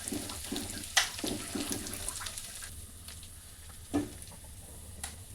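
Boiled lentils go into a pan of fried spices and dried red chillies for a spinach dal, giving a steady broadband sizzle and watery bubbling with a couple of sharp splashy bursts, close and fairly loud throughout.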